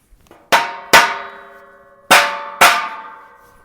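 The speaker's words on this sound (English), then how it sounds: "let's hammer this together." Four loud metallic clangs from hammering a Husky metal shelving unit together, arriving in two close pairs with sharp attacks and long ringing decays, each strike standing alone in a quiet room.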